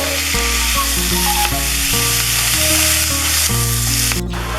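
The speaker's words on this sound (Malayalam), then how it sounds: "ചിക്കൻ ഇട്ടതിന് ശേഷം നന്നായിട്ടൊന്ന് ഇളക്കി കൊടുക്കുക" Chicken sizzling and frying in masala in a pan while being stirred for a pepper chicken dish, a steady loud crackle with scraping stirs and occasional clinks throughout.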